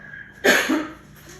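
A single harsh cough bursts out close by, followed by a brief raspy tail and quiet.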